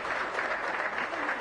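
A brief burst of dense audience clapping at a state formation day celebration, steady and fairly close, without words spoken over it.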